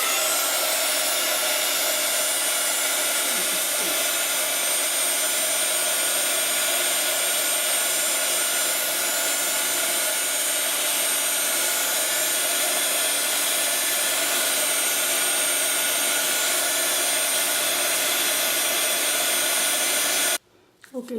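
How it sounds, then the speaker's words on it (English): Heat gun blowing hot air to melt clear glittery embossing powder, a loud continuous whooshing drone that holds steady for a long stretch before cutting off abruptly near the end. "I'm going to use my hot gun to"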